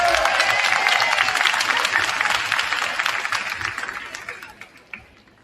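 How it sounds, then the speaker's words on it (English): Applause at an eighth-grade middle school promotion ceremony, a crowd clapping loudly and densely before gradually fading over five seconds, with faint voices mixed in. "Give another round of applause for"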